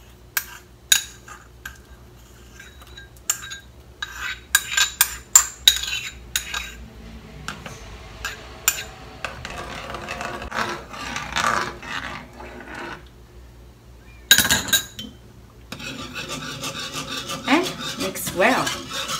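Gelatin being added to a pot of matcha mixture in a home kitchen, with clinks of a spoon and utensils against the pot, scraping and stirring, intermittent and close, no voices.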